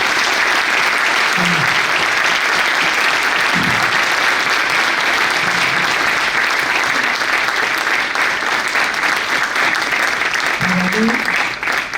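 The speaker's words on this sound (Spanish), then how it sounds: "los saludamos con un fuerte aplauso" Loud, sustained applause from a large audience fills the full stretch at a talk featuring racing car designer Oreste Berta, with a few brief voices and cheers rising over the steady clapping.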